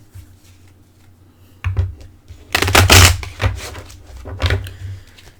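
Oracle cards are shuffled by hand at close range: a few rapid riffling and flapping bursts after a quiet start, with light card taps and handling noises between them.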